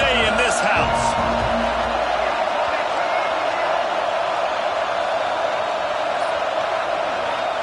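Stadium crowd in the College Football 26 video game keeps up a loud, steady roar, with a few brief louder bursts early before settling into constant broadband noise.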